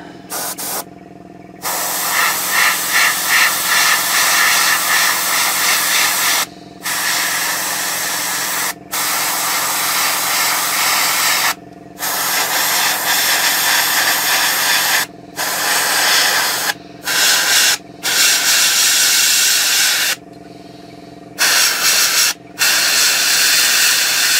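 Airbrush spraying paint in long steady hissing bursts with brief pauses between passes, close and loud, while weathering a Takom 1/35 scale Chieftain Mk10 model tank.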